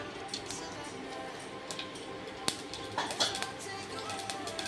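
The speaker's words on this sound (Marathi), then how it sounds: "जिरं मोहरी आपली तडकायला लागली आहे।" Cumin and mustard seeds crackle in hot oil in a pan, a faint steady sizzle broken by scattered small pops and ticks, with a couple of sharper clinks of a utensil against the pan.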